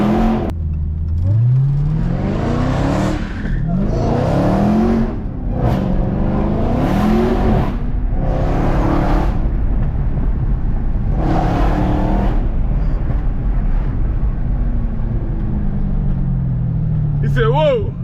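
A car engine revs hard in rising and falling surges as it drifts through turn after turn, loud and close, with tire whine between bursts and excited voices talking over it.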